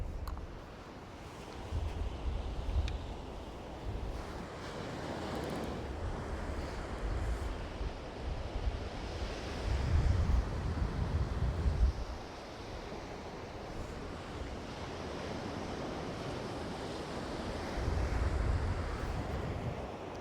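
Steady wind buffets the microphone on the Holderness coast at Easington while surf rolls in the background, a continuous roar with a few stronger gusts, and no one speaking.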